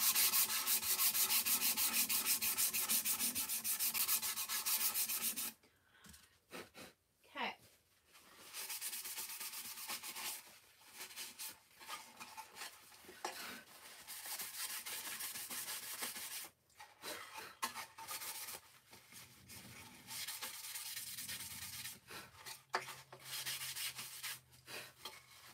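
A rough painted craft surface is sanded smooth by hand, giving close, steady rubbing strokes, continuous at first and then in shorter bursts with brief pauses between them.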